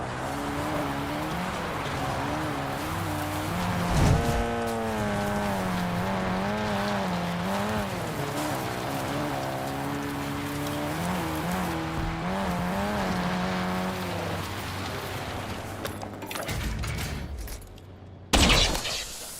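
A vehicle's engine drones and shifts pitch as it is driven around Verdansk in Call of Duty Warzone, the revving steady and prominent, with a sudden loud burst near the end.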